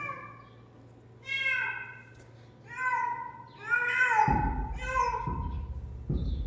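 A trapped cat meowing repeatedly, several drawn-out cries at close range, with a low hum and some thumping noise underneath.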